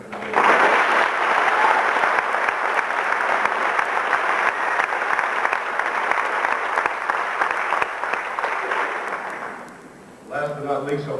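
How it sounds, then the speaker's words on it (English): Loud, sustained applause from the audience at a basic training graduation, a thick continuous roar of clapping that fades near the end as a speaker's voice begins. "please join me in another round of applause for these great Americans."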